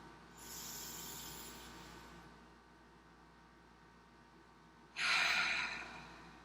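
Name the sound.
deep breathing during meditation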